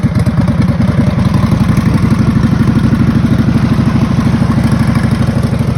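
A race lawn mower engine runs steadily at close range after starting, a loud, rapid, even low-pitched chugging with mechanical clatter throughout and no talking.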